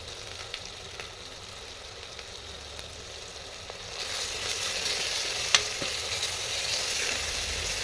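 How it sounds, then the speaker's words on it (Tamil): Chicken masala, chilli powder and salt sautéing in hot oil with ginger-garlic, a steady close sizzle that grows louder midway with a few sharp pops and stirring scrapes, no voices. "தேவைப்படுற அளவுக்கு உப்பு சேர்த்து நல்லா வதக்கி விட்டுக்கணும்."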